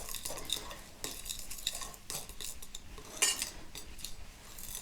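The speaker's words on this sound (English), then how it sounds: "we stir with a blunt knife so that we don't get too much of a scratching on the bottom of the bowl" A blunt knife stirs shortcrust pastry mixture in a bowl, giving quick, continuous scraping and light clinks against the bowl. The stirring is fairly close and soft, with a brief brighter clatter near the end and no speech.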